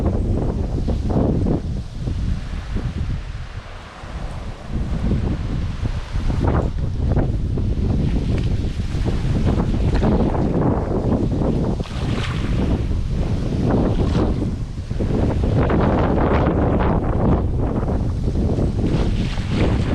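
Strong wind buffets the microphone in loud, continuous gusts by the sea, with the rush of water and waves beneath it.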